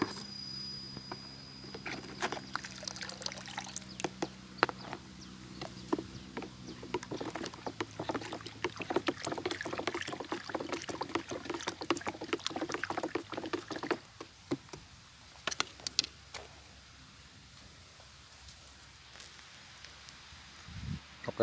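Liquid chili fruit fertilizer mixture stirred in a container, with sloshing, swirling splashes and tapping in an uneven rhythm, close and fairly quiet, quieter in the later seconds.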